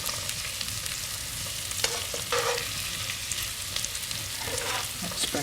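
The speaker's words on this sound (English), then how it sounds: "I'm just going to flip these wee puddings over." Small black puddings frying in a pan just after being flipped, a steady bright sizzle with occasional spatters and a few scraping touches, close by, without talking.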